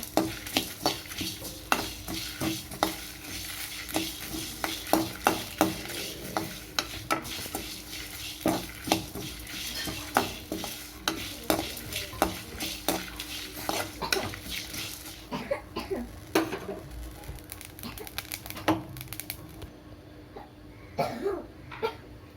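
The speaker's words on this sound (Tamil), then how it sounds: "ஒரு 10 காஞ்ச மிளகாய் போட்டுக்கோங்க. 2 கருவேப்பிலை போட்டுக்கோங்க. நல்லா வதக்கி விட்டுக்கோங்க." About ten dried red chillies and curry leaves are sautéed in a pan, with a spatula scraping and clinking against metal in quick irregular strokes, a soft sizzle underneath, and a cough partway through.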